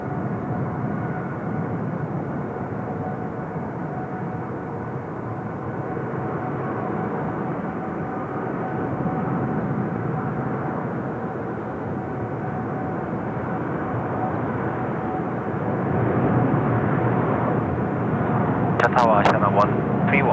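Aircraft at Seoul Incheon Airport, a continuous loud low engine roar swelling and easing over about twenty seconds, with a brief crackle of radio or handling noise near the end.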